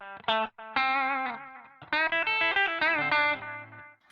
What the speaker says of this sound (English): Sometimes I have it set as kind of a really obvious delay like that.